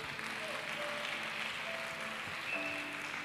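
A church congregation applauding during a service, a dense, steady wash of many hands clapping throughout, moderately loud and even, with faint tonal music threads running beneath and no clear talk.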